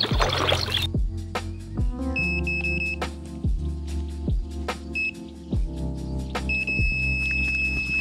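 An electronic fishing bite alarm sounds in rapid repeated beeps with short pitched tones, close and loud, on a French carp and catfish lake with a quiet background.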